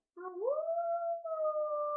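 A person imitates a cartoon dog howling: one sustained voiced howl with a rising pitch that levels off and holds for about two seconds, loud and close, with no other sound.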